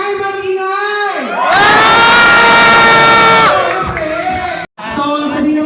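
A large crowd of senior high students at a Christmas party gala erupts in loud, sustained cheering and shouting for about two seconds, then settles into scattered excited voices.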